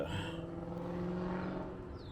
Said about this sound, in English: I don't know what kind of car that is, but he's got something going on over there.